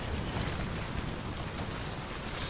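Steady rain in the video game Death Stranding, falling on a slippery forest floor in wind. It makes a dense, even hiss that runs unbroken and fairly close, with no voices.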